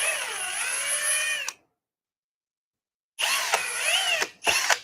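A power drill whines as it bores into a new 2x4 in two bursts, separated by a pause of silence, with a short third spurt at the end.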